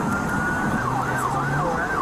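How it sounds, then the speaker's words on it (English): A loud emergency siren wails close by, its pitch sweeping up and down as the tone pattern shifts, steady and continuous. "Changing the tone on your sirens."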